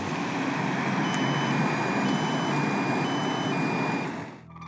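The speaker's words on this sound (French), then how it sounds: "nous avons apporté un compteur Gégère et nous attendons un camion au bord de la route" A truck from a radioactive waste convoy passes along the road in a loud, sustained roar with faint tonal whines, close by, then drops away abruptly near the end, with no speech.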